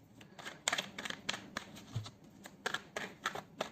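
Tarot cards are shuffled up close, a quick run of crisp snaps and papery flicks coming in irregular bursts, quiet overall with no voice over them.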